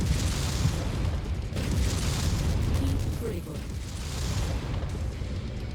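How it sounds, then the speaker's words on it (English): A mech's machine-gun ammunition cooks off in MechWarrior 5 combat, heard as loud, dense booming bursts and rumbling mechanical noise that fills the whole stretch. "He's got an ammo explosion going on with his machine guns."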